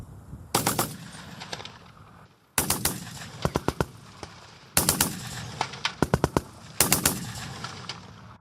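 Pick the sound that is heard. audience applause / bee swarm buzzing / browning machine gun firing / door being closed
browning machine gun firing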